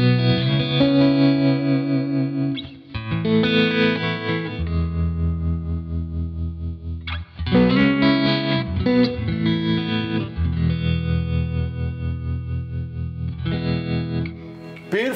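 An electric guitar played through a Louis Electric Deltone amp with the reverb turned up, ringing chords and single notes with a lush, wet tail, loud and close, with a couple of brief pauses between phrases.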